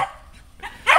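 A beagle outdoors gives a couple of short, sharp barks at a tree squirrel, close and loud, with a brief quiet gap between them.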